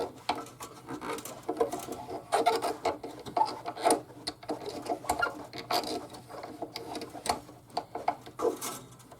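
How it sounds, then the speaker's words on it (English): String winder cranking a new string onto the tuning peg of an old guitar rescued from an attic, a close, irregular ratcheting patter of quick clicks and rubbing over about nine seconds with no voices. "we're going to just start winding it up with our winder"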